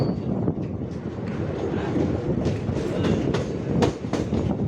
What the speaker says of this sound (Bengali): আমাদের ট্রেন এই মুহূর্তে ঢুকছে শেওড়াফুলি জংশন